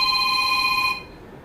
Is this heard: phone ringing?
yes